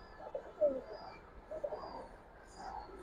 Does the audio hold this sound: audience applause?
no